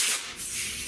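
A metal patch piece for rust repair on a Buick Electra car roof is ground with a harsh, hissing rasp in one brief, close burst that eases slightly midway, with no talking.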